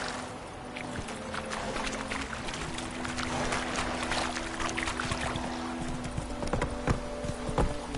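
Horse hooves clip-clopping at a steady gallop in The Witcher 3 video game, a continuous rhythmic beat over a low ambient game soundscape, with no talking.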